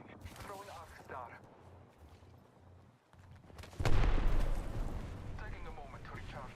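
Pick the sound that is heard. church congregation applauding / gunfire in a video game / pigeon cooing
gunfire in a video game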